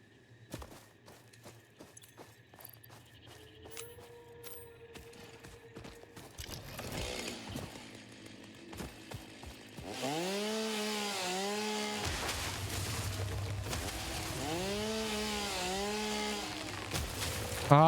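A video game chainsaw revs and bites into trees, first scattered clicks and footsteps, then a loud sustained motor drone with rising and falling whines as it cuts.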